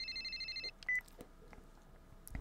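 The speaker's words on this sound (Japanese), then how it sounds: "その時サンジから渡された携帯電話が鳴った" A mobile phone rings with a pulsing electronic tone that stops after about half a second, followed by a brief beep and faint rustling in a quiet room.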